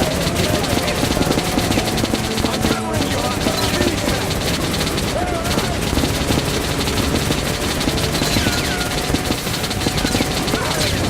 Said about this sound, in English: You can still hit the snipers with the Gatling gun